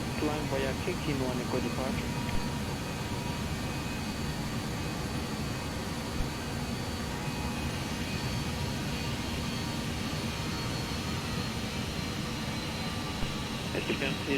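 BAe 146 jet engines in the Just Flight flight simulator play as a continuous broadband roar with a faint tonal whine, heard steadily under a voice talking throughout.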